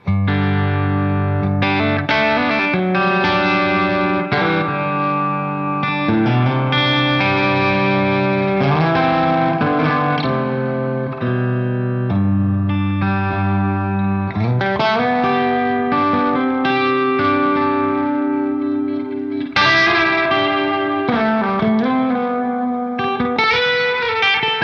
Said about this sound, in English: that should take away the delay and we'll be left with the reverb